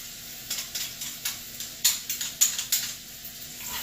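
Garlic goes into a frying pan and sizzles with a steady hiss, broken by a rhythmic series of short scraping and stirring pulses, close up and without talk.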